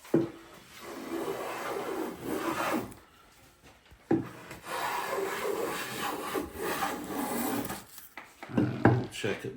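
Steady rasping strokes of a kerfing plane sawing through wood, close by, with short pauses between bursts of sawing.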